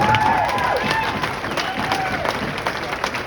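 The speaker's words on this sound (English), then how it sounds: "So, can we get a round of applause real quick?" Wedding guests at an evening reception clap together in a moderate, continuous burst of applause, with some cheering and a voice heard briefly over the crowd.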